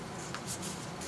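Paper is pressed and creased by hand while folding an origami phone stand, giving a close, dry rustle with a few soft scraping swishes over about a second.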